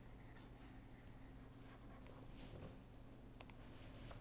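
Chalk or marker scratches and taps against a board during an aerospace structures lecture on skin-stringer idealization, faint and intermittent strokes over a constant room hum.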